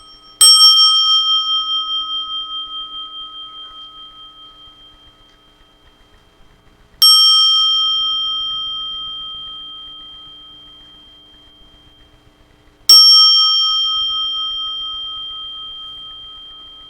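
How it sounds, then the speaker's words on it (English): A meditation bell is struck three times at a spiritual service, each clear high ring sounding alone and decaying slowly over about six seconds before the next strike. "So we'll ring the bell 3 times."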